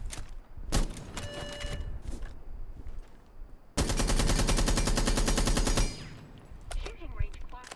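Blackbeard's gun in Rainbow Six Siege, fitted with a muzzle brake, fires loud rapid bursts: a few short volleys, then a sustained stream of automatic fire for about two seconds, then more scattered shots.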